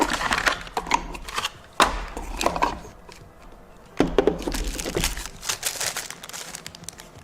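Auxbeam LED headlight bulbs for a 2nd-gen Ford Explorer and Mercury Mountaineer being pulled from their packaging, with close crinkling plastic and scattered sharp cardboard and plastic rustles, clicks and knocks in irregular bursts, no talking.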